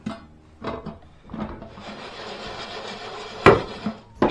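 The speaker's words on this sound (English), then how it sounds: "shake it up so it all gets a good coating" A lidded pan of popcorn and sugar is shaken, producing several close, clattering bursts of rattling kernels and knocks against the pan, with brief pauses between shakes.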